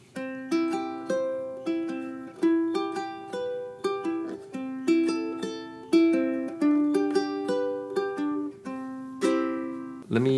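A song picked fingerstyle on a ukulele, a steady run of plucked notes and chords in a bouncing rhythm, close and clear with no talking.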